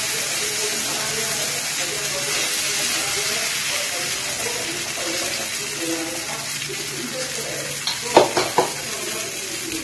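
Mung dal pancake batter sizzling in a pan, a steady hiss of frying that runs throughout, with a few sharp utensil clinks near the end and a voice faintly in the background.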